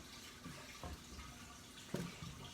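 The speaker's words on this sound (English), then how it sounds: "You want to add some water, and I add some hot water." Hot water is poured into seed-starting soil mix, producing a faint, low trickle and a few soft splashes, quiet and close with no talking.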